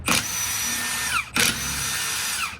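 A battery-powered impact tool fitted with a Forge 6.0 battery drives a nut during a BMW F8x arm install, with two loud, close bursts of buzzing hammering, each about 1.2 seconds long and separated by a brief pause.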